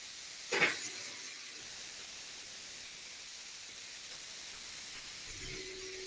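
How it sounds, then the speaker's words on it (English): Meat searing in a hot pan on its second side, heard as a continuous soft hiss and steamy sizzle with a brief louder burst near the start, no voices. "Second side's searing a little better, I think."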